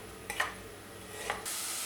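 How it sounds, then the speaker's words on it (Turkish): Onions sizzle quietly in a pot as they sauté for a tomato yogurt soup, with a couple of stirring scrapes and a steady hiss of frying. "Biraz kavuracağım."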